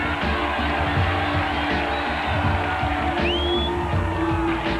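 A roadside crowd at the Ironman Lanzarote triathlon finish in Puerto del Carmen keeps up a steady wash of cheering and whoops for a finisher waving a Union Jack, with scattered shouts and a brief whistle over the din.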